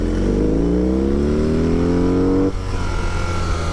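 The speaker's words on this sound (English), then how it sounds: "that was a full first gear throttle" A 2021 BMW R 18 motorcycle is held at full first-gear throttle, its loud engine note climbing steadily in pitch as it accelerates, then abruptly dropping as the revs fall away near the end.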